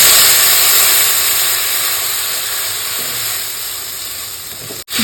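Water poured into a pan of hot oil with fried green mango pieces, a loud, dense, steady hiss of steam and sizzling, close up and continuous, tapering slightly before a brief cut near the end.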